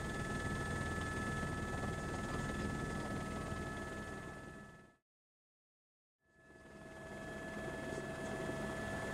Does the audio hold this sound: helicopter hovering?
yes